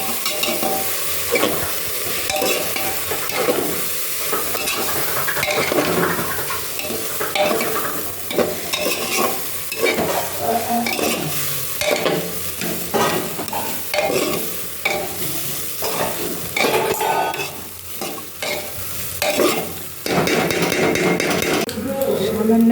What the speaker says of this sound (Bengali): এবার ডালিয়াটাকে দিয়ে দিচ্ছি ওদেরকে একটু নেড়ে চড়ে নিয়ে